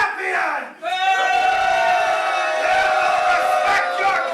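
A large crowd roars and cheers for a new champion, a loud, sustained wall of voices with a brief dip before the noise swells again and holds steady.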